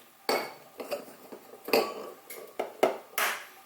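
Two eggs go into a mixing bowl one at a time for banana muffin batter. Sharp taps and glassy clinks against the bowl come in uneven bursts, close and clear, with no voices.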